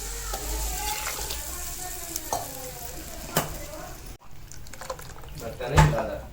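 Tangy raw mango kadhi bubbles and simmers in a pot, a steady soft sizzling and popping with occasional louder bursts near the end, and a voice talks over it.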